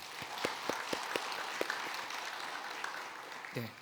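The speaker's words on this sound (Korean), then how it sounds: "하나님께 감사의 박수 한번 드리겠습니다" A church congregation applauds during a Korean worship service, with sparse, scattered claps at moderate distance that thin out over a few seconds, plus a brief low voice near the end.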